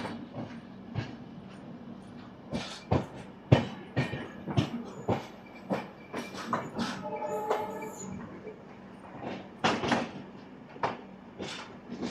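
Puri–Howrah Shatabdi Express running on its rails, giving a quiet, regular clickety-clack of wheels over rail joints, sharp knocks in a rhythmic series over a low rumble, with a brief squeal midway.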